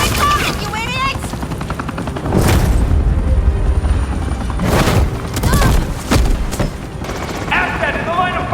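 Gunfire in Batman: The Enemy Within: several sharp shots burst out at irregular intervals over a constant whirring helicopter-like drone, with people shouting and talking between the shots.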